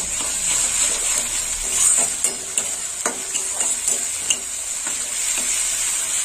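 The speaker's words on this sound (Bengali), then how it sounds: "আদা রসুনটা একটু কষে নেব।" A steady sizzle of ginger-garlic paste frying in a pan for a meat curry, with a spoon stirring and occasionally clinking against the metal.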